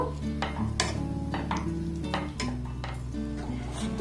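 Milk heating in a kadai over a low-to-medium gas flame, with a spoon scraping and clinking against the metal pan in a repeating stirring rhythm over a steady background hum.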